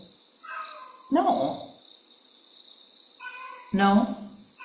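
A cat meowing in a conversational back-and-forth on an evening porch in a field, two loud drawn-out meows separated by quieter high chirping from insects or birds in the background.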